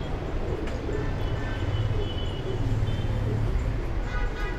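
Racing pigeons owned by a Coimbatore fancier coo softly and repeatedly in a low, steady murmur, close by, over a constant background hum.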